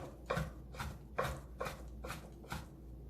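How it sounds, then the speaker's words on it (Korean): Tough meat being sliced into strips with a kitchen knife on a cutting board, six firm, evenly spaced chops, close and fairly quiet. "단칼에 힘을 주시고 바짝바짝 힘을 주시고 썰어 주셔야 되겠어요"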